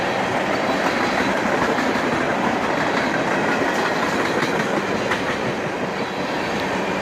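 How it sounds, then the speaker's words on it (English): A lone CSX 5401 GP30 locomotive hauls a long freight train of about 82 cars across a bridge, wheels clacking steadily over the rails in a continuous, close rumble with no voices. "CSX 5401 works hard to pull this train all by itself, with 2 covered hoppers acting as buffer cars."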